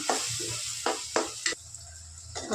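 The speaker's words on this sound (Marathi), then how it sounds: "हळद, घरचा मसाला व्यवस्थित परतून घेऊ आपण।" Turmeric and homemade masala being sautéed in a pan, several brief scraping stirs over a soft continuous sizzle, close by with no voices.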